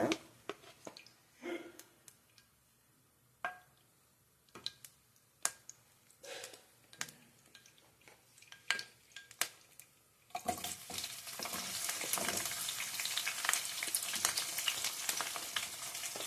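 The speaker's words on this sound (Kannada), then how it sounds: "ಎಣ್ಣೆ ಬಿಸಿಯಾಗಿದೆ ಫಸ್ಟು ಈರುಳ್ಳಿ ಹಾಕೋಣ" After scattered quiet clicks and taps, a sudden steady sizzle starts as onions drop into hot oil and keep frying, a dense crackling hiss that continues evenly to the end without talk.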